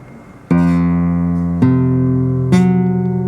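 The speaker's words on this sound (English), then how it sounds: "I invite you to play each string one by one" Flamenco guitar strings plucked one at a time: three separate, close, bright notes, each attack clear and ringing on with long sustain, spaced about a second apart with no talking.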